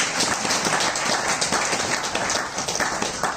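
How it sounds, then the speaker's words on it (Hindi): An indoor audience at a Brahma Kumaris centre event applauds together in a dense, steady wash of clapping that stays loud throughout with no talking over it. "आप जोरदार इनके लिए ताली दें।"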